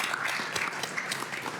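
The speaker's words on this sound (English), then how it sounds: "could you please join me in a round of thanks and applause?" Audience applause for three speakers at a conference on Caspian connectivity in London, a soft, steady wash of clapping from a crowd heard at some distance and fairly faint.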